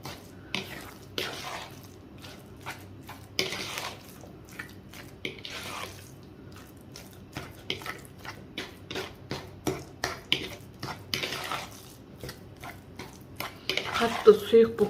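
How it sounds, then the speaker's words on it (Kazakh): A spoon stirs curd cheese and sugar in a bowl, giving repeated soft clinks and scrapes against the dish in an irregular rhythm that grows busier toward the end. "Мен құр творог пен шекерді араластырып жатырмын."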